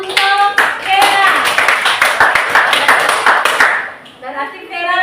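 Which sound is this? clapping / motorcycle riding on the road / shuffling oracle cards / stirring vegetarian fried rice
clapping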